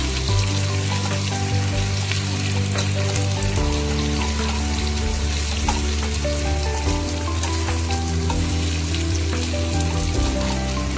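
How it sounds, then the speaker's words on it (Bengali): Potatoes fry in oil in a pan with a continuous, even sizzle that stays close and loud throughout, with no voices over it. "আর একটু ভাজা হবে, একটু সময় নিয়ে ভাজতে হবে"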